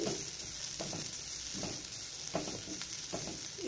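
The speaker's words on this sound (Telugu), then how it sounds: "మనం క్యారెట్ని చక్కగా సాఫ్ట్ అయ్యే వరకు ఫ్రై చేసుకోవాలి" Carrots fry in a pan with a steady close sizzle, broken every second or so by the scrape and shuffle of stirring; no voices.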